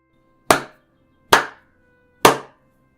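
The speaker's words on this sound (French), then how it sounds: "Ça, c'était moi en train d'applaudir de manière sarcastique." One person claps sarcastically: three slow, evenly spaced, sharp claps about a second apart, close and clear against silence.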